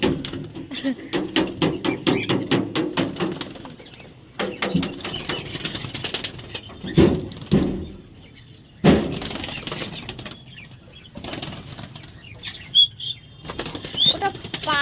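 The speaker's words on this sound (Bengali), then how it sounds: "পায়রা" Pigeons flap their wings in repeated bursts of loud, close fluttering, with brief pauses between flurries and faint voices in the background.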